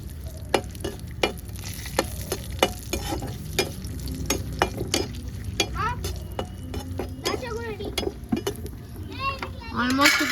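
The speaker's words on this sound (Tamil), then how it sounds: "கோல்டன் ப்ரௌன் ஆகிற அளவுக்கு ஃப்ரை பண்ணிக்கலாம்" Sweet potato frying in a kadai until golden brown, with a steady sizzle and repeated sharp clinks of a ladle against the pan, while children's voices and other speech come and go in the background.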